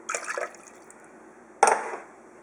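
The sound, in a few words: pouring lemon juice into Ankarsrum Assistent mixer bowl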